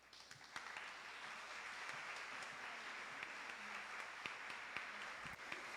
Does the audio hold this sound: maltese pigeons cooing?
no